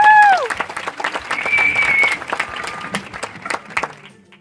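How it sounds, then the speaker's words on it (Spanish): An audience applauds at a fan event while a voice speaks over the clapping, with a bright held tone at the start; the claps are loud and close at first, then thin out and fade. "Un aplauso para Masumi, por favor."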